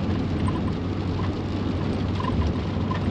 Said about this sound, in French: Vous voyez, il pleut.